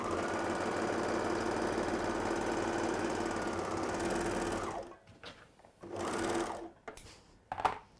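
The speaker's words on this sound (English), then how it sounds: "the overlocker, it can cut your thread at the same time" An overlocker sews along fabric and trims the thread as it goes, a loud steady mechanical whir that stops abruptly, then runs again in two short bursts.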